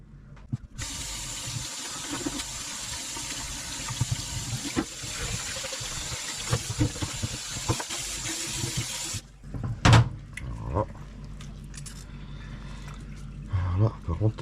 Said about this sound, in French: on va passer au rinçage